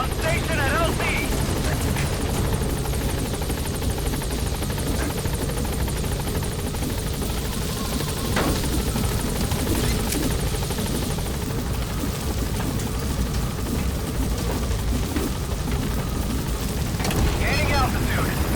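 In the Metal Gear Solid V video game, the B-Quad support helicopter arrives at a landing zone with a continuous, loud, close rotor roar that fills the whole stretch, while voices sound over it.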